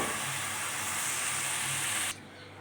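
Water being poured into a cooking pot of beef pulao gravy, a steady close hiss and rush lasting about two seconds before stopping abruptly, with a quieter hiss continuing afterward.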